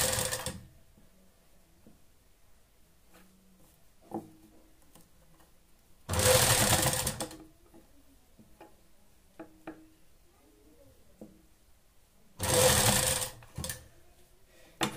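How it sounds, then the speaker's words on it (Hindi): A sewing machine stitches a sleeve in three short bursts of rapid mechanical clatter, spaced several seconds apart, with quiet handling and faint ticks in between. "और फिर ऊपर हम सिलाई चढ़ा देंगे"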